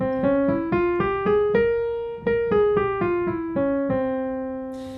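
C dominant 7 flat 9 flat 13 scale played as a run of about a dozen clear, evenly spaced single notes on a sustained-tone instrument, rising then falling, with the last note ringing out alone.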